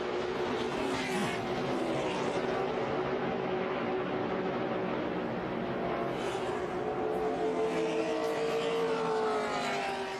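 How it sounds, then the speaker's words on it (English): NASCAR race cars roaring at Daytona during the Daytona 500, with Matt Kenseth's car getting out of shape, pirouetting and flipping; a steady, loud wash of engine drone and crowd-like roar continues throughout without a distinct impact. "Car gets out of shape and then just pirouettes on its left side and goes over."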